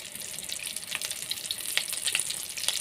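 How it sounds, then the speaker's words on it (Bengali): Chickpea-flour (besan) fritters fry in hot oil for a home-made Bengali snack, a steady close bubbling hiss with small crackling pops scattered throughout. "আর আরেকটা ভাজবো শুধু ভেসন দিয়ে"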